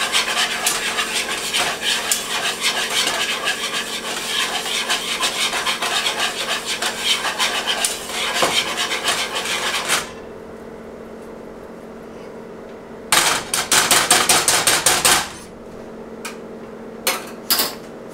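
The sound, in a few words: stirring roux in a pot for gumbo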